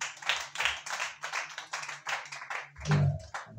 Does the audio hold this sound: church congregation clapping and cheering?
yes